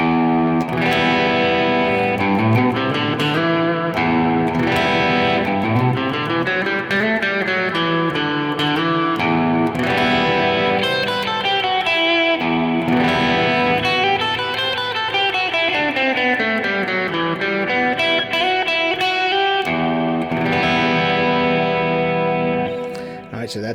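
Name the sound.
guitar with effects playing the E Aeolian mode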